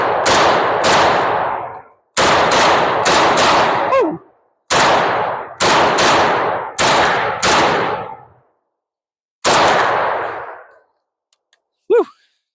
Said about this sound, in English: I'm just going to fire some rounds at it, see how well it holds up